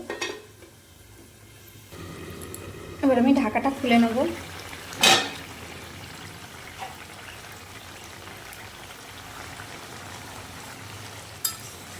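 Small puti fish go into a hot pan for a Bengali fish curry with water lily stems. A few clattering stirs and a sharp clank come first, then a steady frying hiss settles in.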